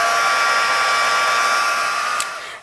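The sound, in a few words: heat tool warming stamped card for embossing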